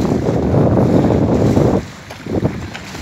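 Strong, steady wind at the North Sea shore buffets the microphone with broad roaring rumble, dropping off briefly then gusting again near the end.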